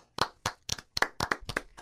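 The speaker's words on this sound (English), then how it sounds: "Imagine that's about 100 people clapping" Applause standing in for a crowd of about 100 people, heard as a thin run of seven or eight distinct sharp hand claps at an uneven pace, close and fairly quiet, with no talking.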